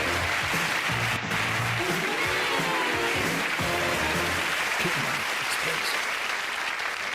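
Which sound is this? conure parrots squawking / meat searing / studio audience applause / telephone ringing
studio audience applause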